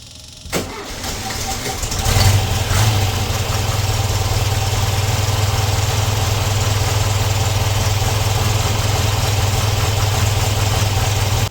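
A Volkswagen T2 bus engine cranks and catches, then settles into a steady, loud, close idle that drones on evenly without change.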